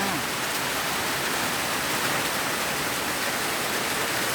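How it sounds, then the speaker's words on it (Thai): Heavy rain pours down in a dense, constant hiss, loud and unbroken, with no other sounds standing out. "ตอนนี้ฝนตกหนักนะคะ พูดอาจจะไม่ค่อยได้ยินเสียงเท่าไหร่ ได้ยินแต่เสียงฝนค่ะ"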